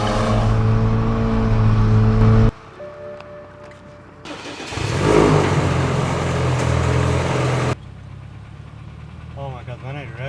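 A 2016 BMW 330e F30 plug-in hybrid sedan engine runs in segments: a steady idle hum, a brief quieter stretch, then a louder rev that swells and holds before dropping back.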